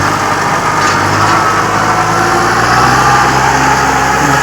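A large tractor pulls a plough through a farm field, giving a steady, close, continuous engine drone that holds even throughout, with no talking.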